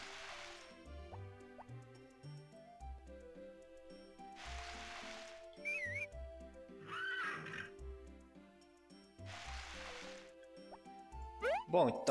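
Horse in the farming video game Harvest Moon: Back to Nature gives several whinnies amid a chiptune melody, alongside clip-clop hoofbeats and dripping water effects, with no speech.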